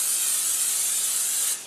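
A short, steady hiss of oil spraying from a can onto a loaf pan, close and bright, lasting over a second before it stops abruptly.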